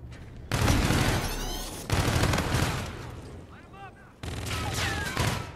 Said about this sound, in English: Stop shooting at me! You're scaring me!